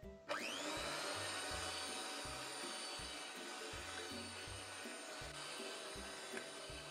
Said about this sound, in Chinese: 加入50克的白砂糖，用电动打蛋器打匀